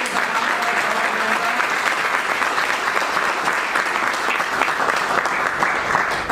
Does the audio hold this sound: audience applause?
yes